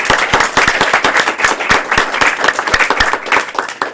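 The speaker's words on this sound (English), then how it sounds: "So a big round of applause for our charter members." A room full of people at a Toastmasters club meeting applauding charter members, a dense, steady round of clapping that carries loud and close throughout with no talking over it.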